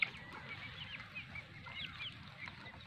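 Faint honking and squawking calls from a group of guinea fowl, scattered and distant, over low outdoor background noise.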